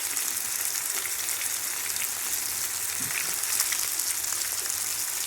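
Fish fries in a pan, giving a steady, even sizzle like light rain that holds close and moderately loud throughout, with no voices.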